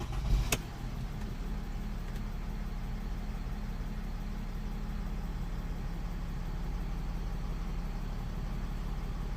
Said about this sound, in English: idle the engine, start the engine.